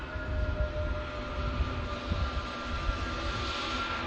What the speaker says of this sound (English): You can hear there's a bit of a distinct whistle to the engines though.